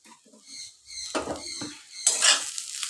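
Mashed jackfruit seed bharta being stirred and mixed by hand with chili and salt on a small plate, soft wet squelching and light scraping dabs, close and quiet.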